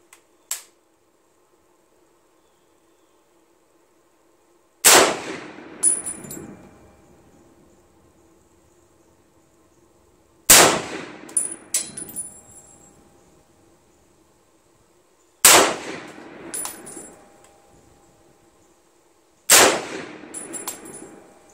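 An M1 Garand rifle fires five sharp, loud shots spaced several seconds apart, each followed by a ringing metallic echo and a short clatter, with near silence between.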